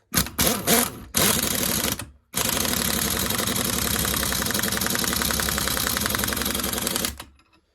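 An air compressor in a car workshop building up pressure: a few short mechanical bursts, then a loud, close, rapidly pulsing chug that runs steadily for about five seconds before cutting off.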